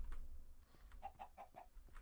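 Soft clucking from a chicken in a Minecraft modpack game, a quick series of four or five short clucks heard faintly over a low background rumble.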